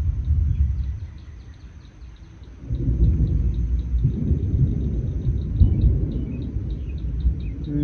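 Close thunder rumbles through a severe thunderstorm, a deep low roll that fades briefly and then swells again into a long, heavy rumble, with faint birdsong above it.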